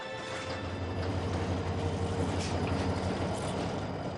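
A train rolls along railway tracks in Africa with a steady, continuous low rumble and mechanical hum, no talking, the noise even and unbroken throughout.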